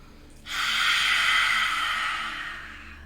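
A long, forceful yogic lion's breath exhaled through a wide-open mouth, a loud breathy rush that starts abruptly and slowly fades over a few seconds, heard alone with no talking.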